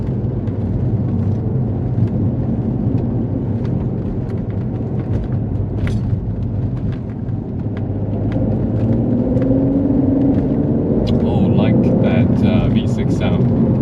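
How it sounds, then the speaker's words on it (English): Deep, steady rumble of an Alfa Romeo 147 GTA's Busso V6 heard from inside the car while driving, a continuous low engine drone that swells slightly near the end. "V6 sound. The rumble sounds very good."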